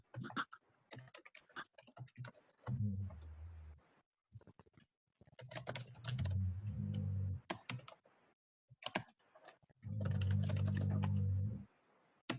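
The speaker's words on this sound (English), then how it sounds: "Somebody's typing." Bursts of computer keyboard typing during an online meeting, quick clicking keystrokes in several runs separated by pauses, fairly close and clear with no talk over them.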